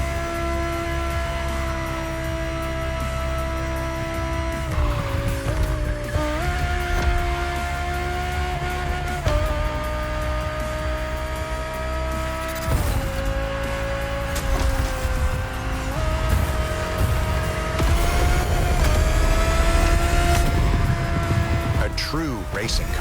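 A 2020 Audi R8 LMS GT2 race car in The Crew Motorfest screams at high revs, its pitch dipping and climbing through repeated gear shifts with a loud, continuous roar that swells toward the end.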